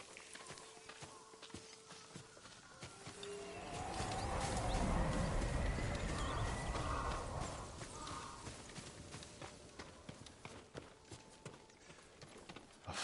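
Horse hooves clip-clop at an unhurried walking pace in the video game Ghost of Tsushima, over a soft ambient bed, swelling briefly in the middle with a low rumble.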